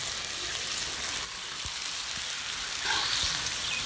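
Goat liver fries on a hot tawa over a medium flame, giving a continuous, even sizzle like light rain, with a couple of soft stirring taps and a brief surge in the hiss near the end.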